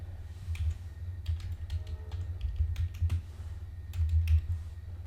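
Computer keyboard typing while entering an area tag in QuoteSoft Duct 4.0 takeoff software, a quiet run of scattered, irregular key clicks over a low steady hum, no voices.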